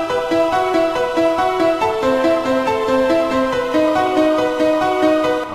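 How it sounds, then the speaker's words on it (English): A techno piano melody from the Nexus plugin in FL Studio runs in quick, bright stepwise notes over a steady synth backing, loud and continuous with no pauses. "And then for the piano melody, it sounds a little different."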